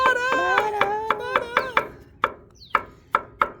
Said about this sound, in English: We're just gonna cut them up, make them into little bitty pieces so they'll cook real quick